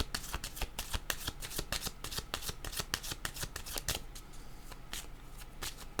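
Tarot cards being shuffled in the hands, a steady rapid riffling and slapping of the deck that runs without pause, close and fairly loud, with no talking.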